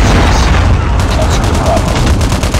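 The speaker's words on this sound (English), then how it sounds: "Hostile Predator missile inbound." A Predator missile strike lands in a Call of Duty: Mobile match on Nuketown, a loud, dense rumble of blasts with rapid gunfire crackling throughout.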